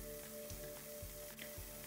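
Melted butter and flour bubble and sizzle softly in a pan as they are mixed into a roux for white sauce, with faint, steady frying and a few light scraping stirs, close and quiet, no talking.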